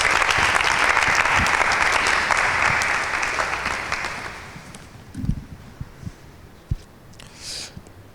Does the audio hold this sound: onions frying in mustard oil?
no